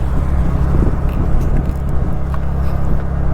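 A car drives along a road, its steady engine rumble and road noise continuous and close throughout, with no talk over it.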